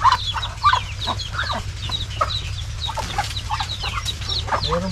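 A flock of farm hens clucks continuously in short, overlapping calls, some close and some farther off, over a steady low hum in the hot farmyard, with no talk.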